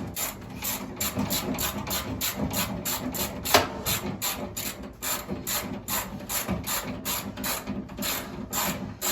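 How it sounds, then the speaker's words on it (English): Steady rapid clicking of a ratchet tightening an 8 mm screw on a clothes dryer, a continuous close mechanical rasp of pawl clicks running throughout with no talking. "And then I go ahead and I put this on, tighten it up."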